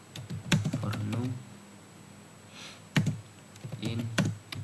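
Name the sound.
typing code on a computer keyboard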